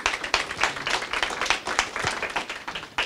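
Audience applause at a conference fills the space, dense and steady clapping from a crowd that runs for about three seconds with no talk over it.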